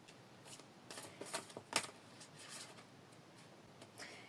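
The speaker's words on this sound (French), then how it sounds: "je vais aller chercher une carte avec un oracle" Oracle cards drawn from a tarot deck give a few soft, quick flicks and snaps, with one crisper slap in the middle, all faint and close in a quiet room.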